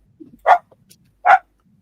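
Two distinct dog barks from a dog named Benji, spaced about a second apart, fairly close and loud, with faint low rustling between them.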